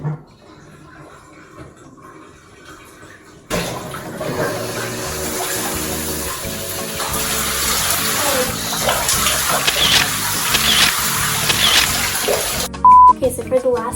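Shower water runs in a steady, loud rush after a quiet start with soft talk, continuing for about nine seconds before a brief tone.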